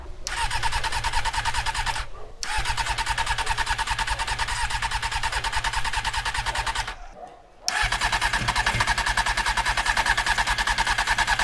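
Honda CBR 600 motorcycle engine cranking on the electric starter, a loud, rapid, rhythmic churning held for long stretches, broken by two brief pauses, close and without firing into a run.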